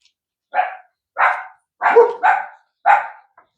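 Several dogs bark loudly and close by at someone mowing a lawn, five sharp barks in an uneven rhythm, with no mower clearly audible underneath.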